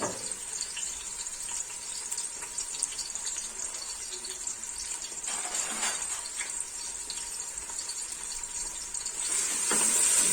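Tinda slices fry in about half a cup of oil in a pan, giving a steady close sizzle with occasional clinks and stirring noises that grow louder near the end.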